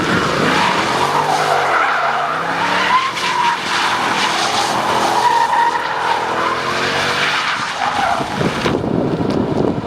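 A Mercedes CLS63 AMG turns hard with its tires skidding and squealing in long, wavering screeches close by, over steady wind noise on the microphone.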